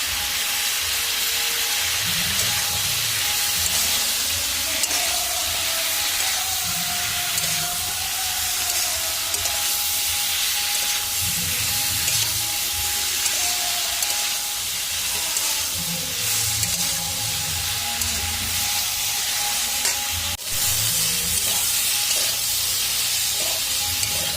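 Mixed vegetables, including drumstick stalks, fry in a pan with turmeric for a curry, giving a steady, close sizzle and hiss that runs unbroken throughout with no talking.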